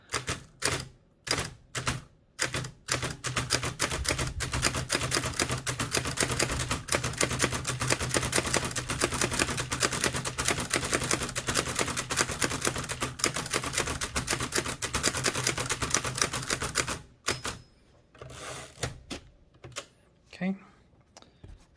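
A Hammond Multiplex typewriter clacks in a long, rapid run of dense keystrokes, framed by a few slower isolated strikes before and scattered clicks after, close and crisp with little pause.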